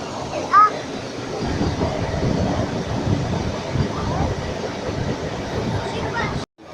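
An ordinary passenger train heading into Ramses station in Cairo runs steadily on its rails, a continuous broadband rumble with faint rhythmic clatter, heard from inside the carriage with a brief chirp early on and a sudden cut at the end.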